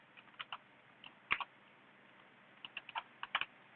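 Computer keyboard typing during a live coding session, scattered bursts of key clicks in quick clusters with pauses between, close and fairly quiet, no talk.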